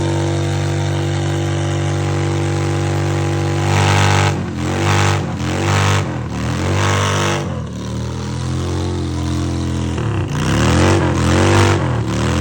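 A car engine idles steadily, then is revved repeatedly in rising and falling bursts, loud and close with a rough mechanical tone, and no talking.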